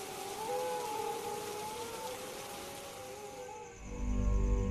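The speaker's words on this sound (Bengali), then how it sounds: "বাইরে এত বৃষ্টি হচ্ছে" Rain falls outside at night in a cartoon scene, a steady, soft hiss of downpour with a long, wavering, whining howl running through it before the rain swells louder at the end.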